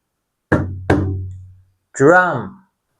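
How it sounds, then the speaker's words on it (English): Two quick hits on a small drum, the second shortly after the first, each leaving a low ringing decay, followed by a short voice. "第一種係小鼓 drum。"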